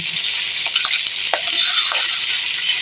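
Fish roe frying in hot oil in a Bengali home kitchen, a steady close sizzle with a few soft clinks and stirring taps, no talk.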